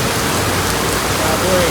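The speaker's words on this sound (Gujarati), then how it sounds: "ખાલી વરસાદ તો પાટણનો વરસાદનો માહોલ છે" Heavy monsoon rain falls in Patan as a loud, dense, continuous wash of noise that stays steady for the whole stretch.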